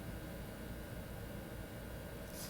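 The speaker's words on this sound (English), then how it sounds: "So we've got air conditioner, we've got fans on. So if you hear that buzz or that hum" A steady, faint hum of an air conditioner and fans fills the room, unchanging broadband whir with a slight electrical buzz.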